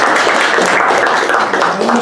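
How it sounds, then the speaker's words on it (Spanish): An audience applauds at a commemorative gathering, a brief burst of dense, loud clapping that fills the moment without pause. "le damos un aplauso"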